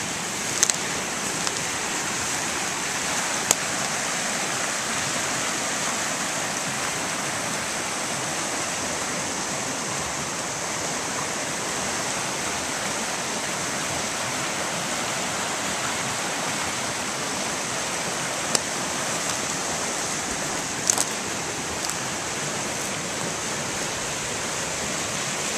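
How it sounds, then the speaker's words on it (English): Water rushing down a rain-swollen spring creek, a steady broadband roar close by that holds evenly throughout, with a few faint clicks and no voices. "Look at the water rushing down from the"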